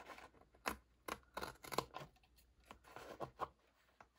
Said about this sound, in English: I am going to trim it